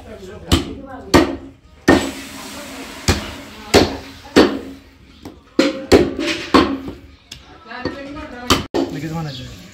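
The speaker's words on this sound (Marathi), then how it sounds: "या ठिकाणी बहेकडून आम्ही मटण तोडून घेत आहे" Heavy blade blows chopping goat mutton into pieces for a village festival meal, a dozen sharp thwacks at an uneven pace, loud and close, with someone talking in between.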